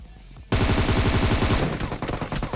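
Loud automatic gunfire from the video game PUBG Mobile erupts after a brief quieter moment, rapid shots firing in a dense, continuous burst that tails off near the end.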